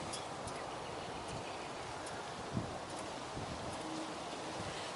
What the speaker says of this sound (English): Kind of a little windy out here. I don't know if you can hear the wind in the camera.